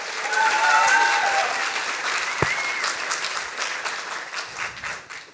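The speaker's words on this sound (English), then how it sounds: "Big applause for Alice Podesta." Big round of audience applause at a Science Slam event, a sustained crowd of clapping with a brief whistle near the start and a single thump midway, gradually thinning and fading toward the end.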